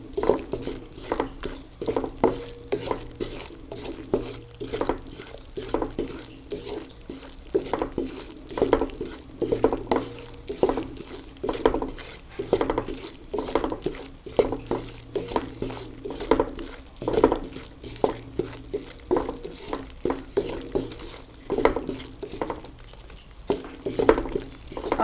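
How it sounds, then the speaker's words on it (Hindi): A spoon stirs and scrapes atta flour roasting in a pan for Punjabi egg halwa, rhythmic repeated scraping strokes with a faint dry sizzle, close and steady, with no voices. "आटा बहुत जल्दी भून जाता है, इसलिए बहुत एहतियात से भूनना है।"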